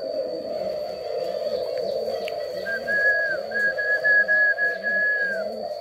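Young spotted doves coo in a steady rhythmic series, soft and close, over a constant background hum with a thin high tone and occasional faint whistles.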